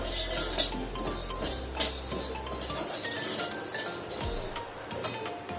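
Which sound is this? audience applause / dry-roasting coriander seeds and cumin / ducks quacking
dry-roasting coriander seeds and cumin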